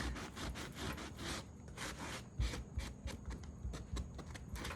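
Sandpaper is drawn gently across a small wooden Dollar Tree pumpkin in quick, repeated scratchy strokes. The rubbing is soft and close, in an irregular rhythm with no voices.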